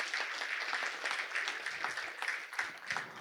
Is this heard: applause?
yes